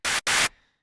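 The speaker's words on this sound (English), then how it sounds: "I'm going to start off with some bright white noise from Serum." Two bright bursts of white noise from the Serum synth, the first short and the second longer, each cutting off abruptly, then a faint tail fading out.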